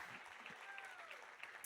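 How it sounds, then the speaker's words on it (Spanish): A church congregation claps together during a Spanish-language sermon, a dense, moderately distant wash of applause with faint voices underneath. "Den un aplauso y póngase en pie."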